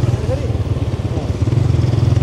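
Two motorcycles ridden by a group of young men, their engines putting out a steady low throbbing rumble close by under the wind, with voices talking over it.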